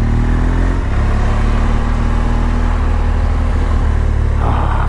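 A BMW GSA motorcycle on Mitas tires rides along, a loud continuous engine drone mixed with heavy wind rush and road noise, steady throughout with a slight pitch shift partway.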